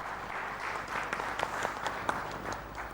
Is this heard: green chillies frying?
no